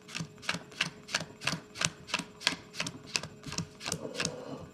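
Playing cards dealt one at a time onto a growing pile on a table, with a steady run of about fourteen quick, crisp slaps and flicks, close and fairly loud, and no talking.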